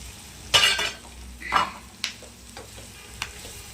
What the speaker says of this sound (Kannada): ಇವಾಗ ನಾನು ತೊಳೆದು ಹೆಚ್ಚಿಟ್ಕೊಂಡಿರೋ ಮೆಂತ್ಯನ ಸೇರಿಸ್ತಾ ಇದ್ದೀನಿ.